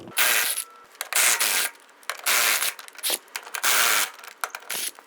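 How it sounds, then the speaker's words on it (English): Lug nuts come off a 2000-2007 Ford Focus wheel with a 19mm socket, heard as repeated bursts of loud, raspy ratcheting and rubbing separated by short pauses, close and without talk. "Using a 19mm socket, remove the 4 lug nuts."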